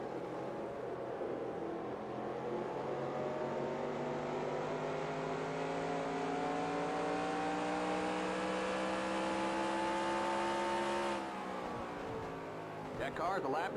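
Stock race cars roar around the track in the NASCAR Racing 2003 video game, a loud continuous engine drone whose pitch climbs steadily for about eleven seconds before dropping off abruptly.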